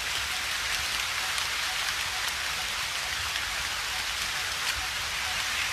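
Steady rain falls throughout, a dense, even hiss of drops on a surface, fairly close and unbroken, with no voices.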